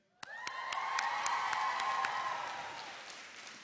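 A class of students claps and cheers loudly at once, with scattered whoops over steady applause that slowly fades.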